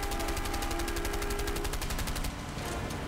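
Rapid automatic gunfire in A Way Out, a steady stream of evenly spaced shots rattling on for about two seconds before easing off, set against a constant busy game background.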